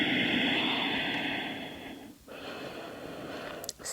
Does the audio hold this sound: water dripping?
no